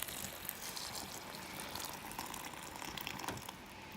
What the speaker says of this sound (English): we're gonna call this water done and pour it into the bag